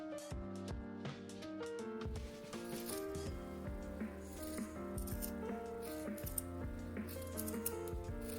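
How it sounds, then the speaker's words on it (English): Scissors snip through fabric to cut out a drawstring for a bucket bag. The cuts come as quiet, close crisp strokes with faint rattles over a low, steady musical backdrop, and no one speaks. "you're going to cut this out at about 1/8 of an inch seam allowance"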